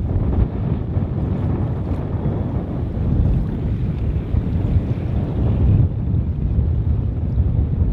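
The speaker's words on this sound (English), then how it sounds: "So it's really strong wind right now." Strong wind gusting on open water near a small sailing dinghy, a dense continuous roar with buffeting against the microphone and faint wave wash underneath, no voices.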